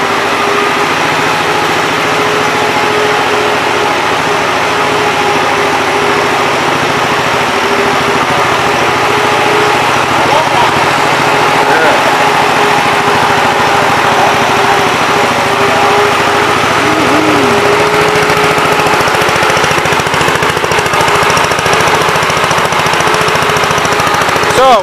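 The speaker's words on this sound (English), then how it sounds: "what's it like to drive a tractor that's 89 years old?" Engine of an 89-year-old tractor running, a loud, steady mechanical chugging and rattle that holds throughout with no pauses, close by and without any talking over it.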